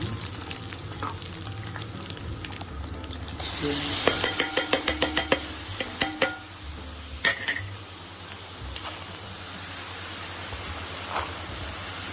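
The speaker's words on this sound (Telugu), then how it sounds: "వెల్లుల్లిపాయ కొంచెం వేగిన తర్వాత కరివేపాకు." Garlic frying in a pan for a red chilli and garlic pickle, a steady loud sizzle with a run of rhythmic metal stirring and scraping clinks in the middle, no speech.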